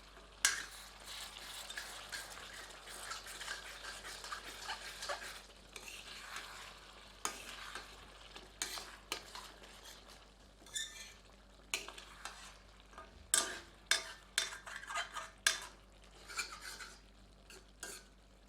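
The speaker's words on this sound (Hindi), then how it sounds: "एक बार अच्छी तरह कड़छी चलाते हैं।" A ladle stirs mutton in a pot over a low flame, with repeated scraping and clinking against the metal and a soft sizzle underneath, close and fairly quiet, no talking.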